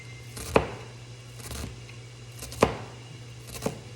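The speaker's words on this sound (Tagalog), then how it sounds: "Maninipis lang yung ginawa kong paghiwa sa ating sibuyas." A knife slicing an onion thinly on a cutting board in a quiet kitchen, three sharp, close chopping strikes spaced a second or two apart, each a crisp tap over a faint background hum.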